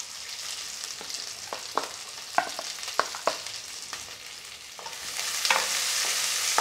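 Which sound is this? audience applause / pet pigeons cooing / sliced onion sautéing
sliced onion sautéing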